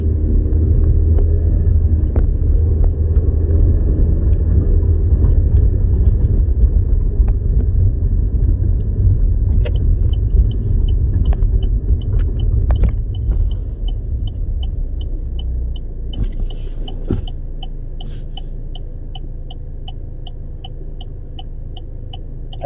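Inside a car driving along a road, a constant loud low engine and tire rumble drones throughout, with faint rattles and a ticking indicator toward the end, and no talking.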